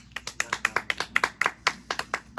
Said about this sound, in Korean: 우리 서로를 위해서 우리 박수 한번 할까요?